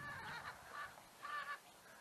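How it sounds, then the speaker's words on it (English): A couple of chickens in Medugorje giving faint, hoarse honk-like calls, two short bursts heard at a distance with no one speaking. "There's a couple of chickens there."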